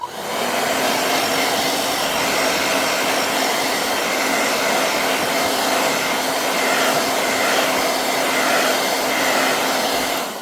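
A steady, loud dryer blows on fabric continuously with a constant whooshing roar and no pauses; no voices.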